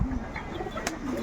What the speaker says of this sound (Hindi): एक कबूतर उड़ चुका है